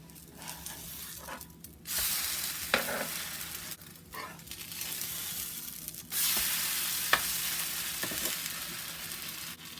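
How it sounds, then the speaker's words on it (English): Strawberries and cream stuffed French toast frying in a pan, a steady close sizzle that swells and fades, with occasional scraping as the pieces are moved, no voices. "now we're going to cook our stuffed French toast until they're golden brown"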